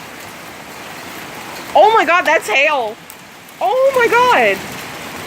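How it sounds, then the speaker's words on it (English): Small hail mixed with a heavy downpour during a sudden thunderstorm, a dense steady hiss of rain throughout, with a voice exclaiming loudly over it twice. "That is small hail."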